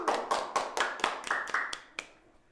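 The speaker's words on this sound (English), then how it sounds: "Clap for the legendary spear!" A small group of elementary school children clapping at a school performance, a short run of about nine crisp, fairly close claps in an uneven rhythm that trails off after a couple of seconds.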